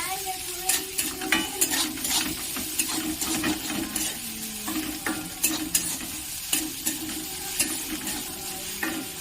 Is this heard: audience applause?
no